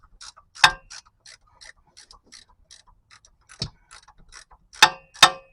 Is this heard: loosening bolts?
yes